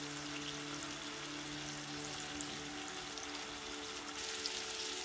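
Onions frying in hot oil in a pan for prawn curry give a steady, soft sizzle, an even hiss that stays level and fairly faint throughout, with no voices.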